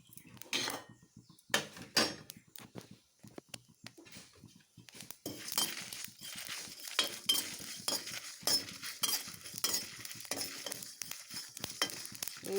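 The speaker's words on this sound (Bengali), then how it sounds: "এইভাবে হালকাভাবে আমি একটু সব মশলাকে একটু ভেজে নেব" Dry chilli, panch phoron and fennel seeds fry gently in a pan while a utensil stirs and scrapes, giving repeated clinks and scrapes over a light, steady sizzle.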